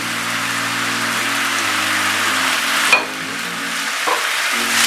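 Chicken keema fries in a pan, a steady close sizzle with scraping stirs from a spoon and a couple of sharper clanks against the metal, no voices.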